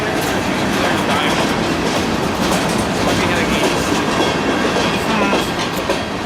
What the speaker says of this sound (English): I love these long copper trains.